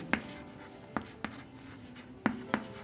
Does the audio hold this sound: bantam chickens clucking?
no